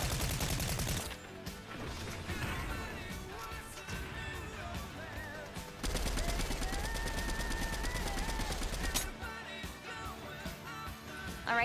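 Rapid automatic gunfire from a hard-recoiling weapon in a video game, sustained bursts roaring close and loud over a tonal game-music bed, with a brief pause partway through.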